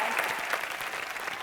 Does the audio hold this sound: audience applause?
yes